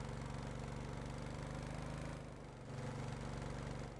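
An engine runs at high revs on a rescue craft being tried in the water, a steady rough drone that dips briefly before picking back up.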